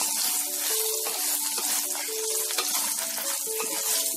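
Fresh coconut pieces fry in hot oil with a constant soft sizzle and crackle, while a utensil clinks and scrapes now and then against the pan. No one speaks.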